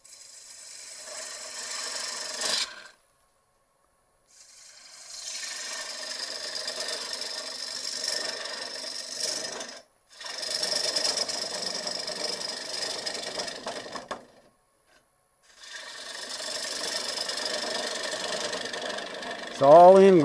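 A small bowl gouge cuts into an end-grain bowl blank spinning on a wood lathe, giving a sustained scraping hiss in three long passes split by short silent pauses, with a brief voice at the very end.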